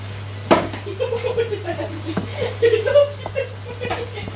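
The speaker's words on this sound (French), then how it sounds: "Nous allons mélanger." A spoon stirs a chicken and mushroom pie filling in a pan, giving soft scraping and clinking strokes over a faint sizzle, with a steady low hum underneath.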